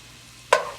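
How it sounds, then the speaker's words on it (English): Garlic hitting a hot pan with oil for fried rice bursts into a sudden sizzle, loud at first and then settling into a steady, fading fry. "I'm going to give this a quick saute."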